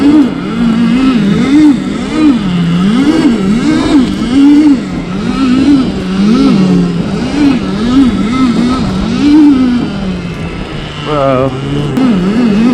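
An electric ATV fitted with a swapped-in replacement motor whines in wavering, rising and falling pitches as it is ridden, loud and close, with a voice briefly speaking over it.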